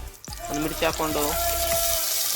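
Whole pulao spices and a chilli hit hot oil for a tomato bath, giving a close, bright sizzle with crackling pops that holds steady, alongside a brief burst of speech.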